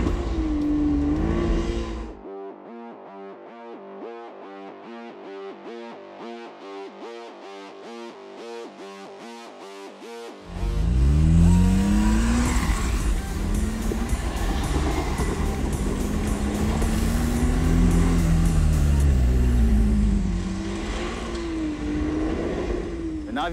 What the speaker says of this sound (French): on s'amuse dans le sable avec le Toyota Tacoma TRD et le Chevrolet Colorado